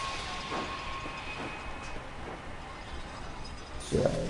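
A model railroad train runs steadily on its layout near a trestle, a continuous rolling rumble with faint rail clicks and a louder clatter near the end, with no voices.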